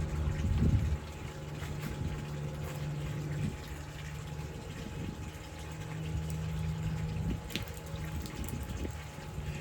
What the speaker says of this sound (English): I'm just rinsing it out with pool water so I don't contaminate anything here.